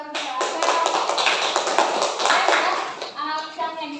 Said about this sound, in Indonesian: Oke, berikan tepuk tangan untuk